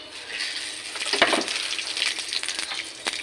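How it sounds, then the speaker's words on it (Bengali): Bay leaf, whole cumin and two dried red chillies sizzle and spit in hot oil in a kadai, a close, crackling burst with scattered pops and scrapes, no talking. "এবার কড়াইতে আমি ফোড়ন দিয়ে দেবো, তেজপাতা, গোটা জিরে আর 2টো শুকনো লঙ্কা"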